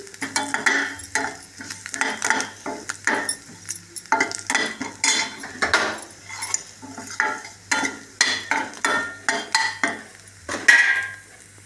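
A spatula scrapes and stirs a garlic and spiced puffed rice mixture in a pan, with repeated rhythmic metal clinks and rustling strokes, plus a light sizzle, close and clear without speech.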